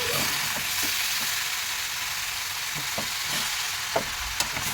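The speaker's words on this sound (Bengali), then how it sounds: "পালং শাকটা একটু নাড়াচাড়া করার পরে আমি ঢেকে দেবো" Spinach fries in a hot pan with a steady, bright sizzle throughout, while a utensil stirring the leaves adds soft, scattered scraping knocks close by.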